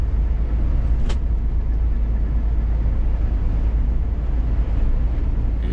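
Strong, gusty winter wind roars steadily outdoors as broadband rumble buffeting the microphone, loud and continuous throughout with no voices.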